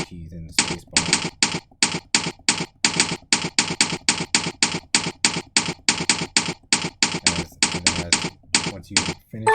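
Keystrokes on a computer keyboard during a typing tutorial, fast even bursts of crisp clicks repeating steadily for the whole stretch, close up and fairly loud, with no voice.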